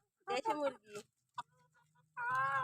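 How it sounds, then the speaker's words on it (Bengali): Black chickens in a village yard cluck in short bursts close by, and people's voices can be heard talking among the bird calls. "কত সুন্দর এই কালো মুরগিগুলো"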